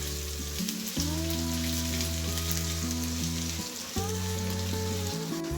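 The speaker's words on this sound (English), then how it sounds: "Now let's stir fry this." Finely chopped garlic, ginger and curry leaves stir fry in hot oil in a pan, giving a steady bright sizzle under soft background music.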